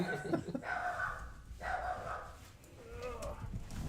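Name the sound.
part Jack Russell dog barking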